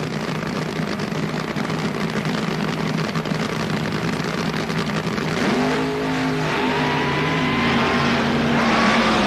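Funny car drag racers from the 1977 NHRA Gatornationals, one a 1977 Monza, roar loudly at the line with steady, constant engine noise, then the pitch climbs as they rev and launch.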